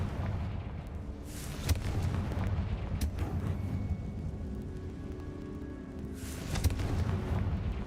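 A Confringo explosive spell from a Hogwarts wizarding game goes off in a tomb. Several muffled, fairly quiet blasts and thumps sit over a steady low rumble, with brief sharp bursts near the start and end.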